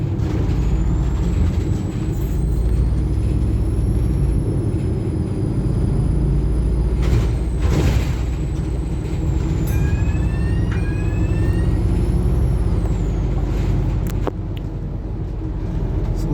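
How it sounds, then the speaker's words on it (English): A bus runs fast through Halifax streets, its engine rumble loud and steady inside the cabin, with air-brake hisses and rattles partway through and faint high whines overhead. "once again the bus is going rather fast"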